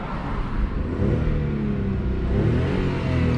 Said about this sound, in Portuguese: Dá uma olhada aí no ronco desse grande modelo parado